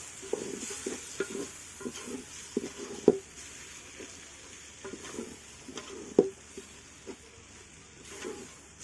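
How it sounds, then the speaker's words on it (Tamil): Prawn biryani masala is stirred in a pot, with repeated scraping and clinking of a spoon against the metal over a faint sizzle, including a few sharper knocks, and no one speaks. "இதெல்லாம் போட்டு நல்லா மிக்ஸ் பண்ணிக்கோங்க"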